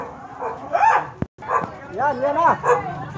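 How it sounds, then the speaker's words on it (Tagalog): Several dogs bark and yip excitedly at close range, overlapping one another with a whimpering, high-pitched tone. "Maraming aso."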